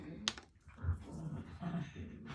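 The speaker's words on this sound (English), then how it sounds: "these dogs are getting really loud" Dogs indoors give faint whimpers, low growly grumbles and short yelps during a stencil craft session, in brief uneven bursts at low volume.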